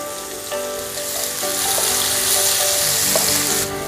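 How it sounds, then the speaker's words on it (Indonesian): Garlic and chopped chili frying in hot oil, a loud continuous sizzle with occasional clinks of a utensil, close by and without talk. "Minyaknya sudah panas, saya akan masukkan dulu bawang putih beserta cabai yang tadi saya sudah"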